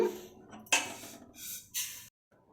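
Roasted food being scooped and transferred into another pot, heard as a few close, loud metallic scrapes and clatters of a spoon against the vessels, separated by brief pauses.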